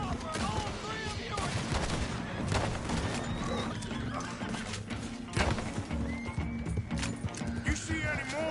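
Horses in Red Dead Redemption II whinny while hooves clip-clop steadily, buried in a busy, dense mix of gunfire bursts and voices throughout.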